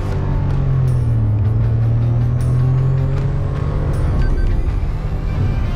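Maruti Fronx turbo automatic accelerating from inside the cabin, a loud steady engine drone rising in pitch as it pulls through the gears, with road rumble underneath.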